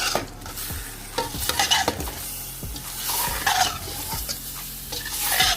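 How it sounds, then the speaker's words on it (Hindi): Bay leaves and cumin seeds frying in a pot and being stirred, a steady sizzle broken by several distinct scraping and clinking strokes of a spoon against the metal, close and without talk. "और इनको अच्छे से मिक्स करते हैं।"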